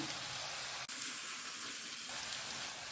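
Tomatoes and onions frying with salt in a pan, giving a steady, dense, close sizzle that runs unbroken apart from one tiny dip.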